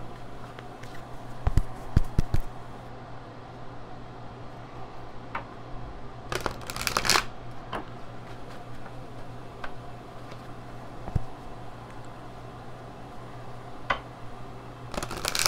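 Angel oracle cards being shuffled by hand, a few crisp riffling bursts and soft slaps between quieter handling noises, close and without talk.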